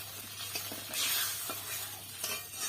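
Water is poured into a pan of spice paste made with ground mustard and poppy seed for a vegetarian paneer dish, giving a steady, close hiss and sizzle with light stirring scrapes throughout.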